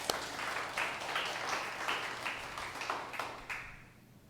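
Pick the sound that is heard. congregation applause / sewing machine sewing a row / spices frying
congregation applause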